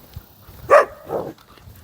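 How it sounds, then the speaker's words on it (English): Dogs on a homestead giving a single short, fairly faint bark, with a softer bark or whimper just after, over quiet background. "to the last of the angry tenants, the dogs."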